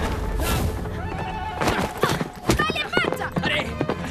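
Horse hooves clatter and a horse neighs in an animated Mulan story, with clip-clop beats and whinnies mixed under a spoken voice.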